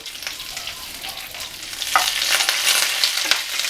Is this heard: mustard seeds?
yes